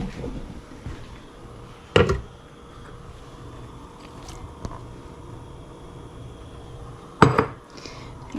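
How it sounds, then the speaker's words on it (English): Sausage goes into a big gumbo pot of sauteed onions, garlic and peppers, with two sharp metallic clanks of utensil on pot several seconds apart over a low, steady background. "I'm going to add my sausage down into there as well"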